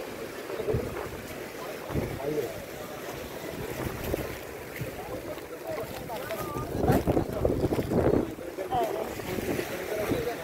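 Fishing trawlers on the water at a fish landing at the Digha estuary, heard as steady wind buffeting and water wash with a low engine rumble, voices talking throughout.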